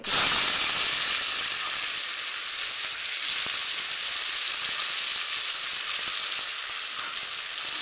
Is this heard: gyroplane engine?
no